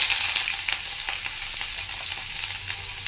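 Chopped onions and green chillies sizzling in hot oil in a pan, a steady bright crackling hiss with small pops and occasional stirring scrapes, close and continuous without speech.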